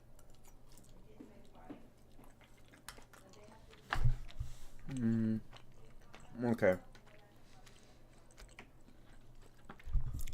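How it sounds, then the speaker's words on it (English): Someone chews food close to the microphone while coding a Flutter app, with a few soft wet bites and squishes breaking a quiet hum, and a brief murmur of speech mixed in. "excuse the chewing"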